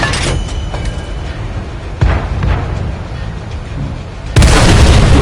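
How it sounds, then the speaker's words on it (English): Heavy artillery shell impacts on a tank in World of Tanks, a low rumbling boom near the middle followed by a louder, sustained blast near the end, over constant low engine-like rumble. "I think I got hit by the arty"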